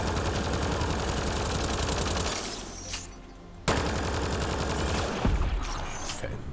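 Sustained, rapid video game gunfire aimed at a turret rattles loud and continuous, breaks off into a brief lull, then resumes at full force with another sharp burst near the end.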